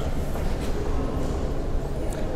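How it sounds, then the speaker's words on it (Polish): Warsaw Metro M1 train arriving at a busy underground platform, a steady loud rumble and roar of rolling stock that fills the whole moment with a faint squeal near the end. "Zaraz wjedzie pociąg."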